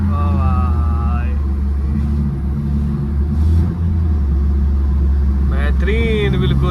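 Maruti WagonR hatchback with an aftermarket exhaust, heard from inside while driving, a loud deep engine rumble with rising revs, while someone talks excitedly over it.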